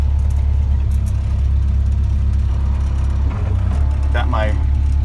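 A mini-excavator drives up out of an open trench with its arm extended, heard from inside the cab as a steady, loud diesel engine drone with a brief dip and a faint high squeal near the end.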